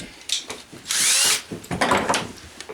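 Power drill boring a hole with a 0.181 drill bit for an 1862 Pocket Police revolver part, several short bursts of whirring and grinding, one longer loud high-pitched run in the middle, close and clear.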